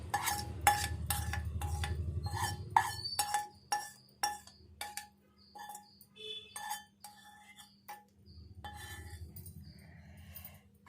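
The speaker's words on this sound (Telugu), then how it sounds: "పోసుకొని అంతా ఒకసారి కలుపుకోవాలి." A spoon scrapes and clinks against the vessel in a rhythmic series of knocks as poured tempering oil is stirred into homemade tomato pickle, close and fairly quiet.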